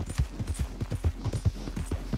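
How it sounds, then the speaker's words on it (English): A horse gallops in Red Dead Redemption 2, its hooves beating a fast, even clip-clop rhythm of close thuds over a low rumble, with no talking. "This is how a horse should run."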